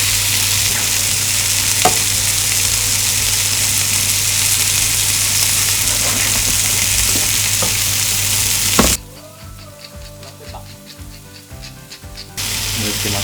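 Mushrooms and egg frying in a pan alongside chicken, a steady loud sizzle that runs continuously, briefly drops to quieter crackling and stirring scrapes, then returns to full sizzle.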